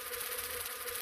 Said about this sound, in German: Ah, Fliege.